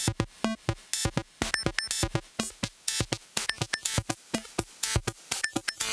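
Choppy electric guitar notes played through a Lossy effect pedal sputter and cut in and out with a gritty, glitchy breakup, losing low end, playing a quick stuttering pattern.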